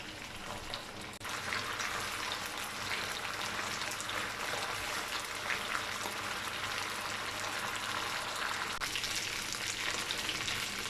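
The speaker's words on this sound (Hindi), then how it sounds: "अब इसे लिड ओपन में ही 5 से 7 मिनट के लिए गोल्डन मार्क्स आने तक पकाएंगे।" Chicken malai boti skewers sizzle steadily in an open pan, a dense, continuous frying hiss at close range with no talk, rising fuller after the first second and holding even to the end.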